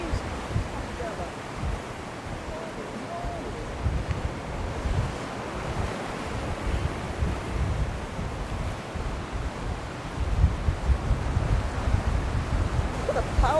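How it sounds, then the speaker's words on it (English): Ocean waves about eight feet tall break and surge along the cold, windy Norfolk coast, a steady roaring wash with heavier crashes near the end, buffeted by wind rumble on the microphone. "Look at the power behind that. And they're only about 8 feet tall."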